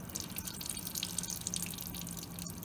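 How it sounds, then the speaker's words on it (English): Water drips slowly from a wash bottle into a laboratory flask during a copper chloride experiment, a faint run of soft, irregular droplet ticks over a steady background hiss. "So now it looks like the water is slowly dripping"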